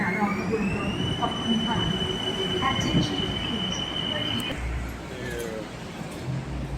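A BTS Skytrain at an elevated station on the route from Saphan Mai toward Samut Prakan: steady rolling rumble with a high, sustained wheel squeal that cuts off as the train slows, amid busy platform noise.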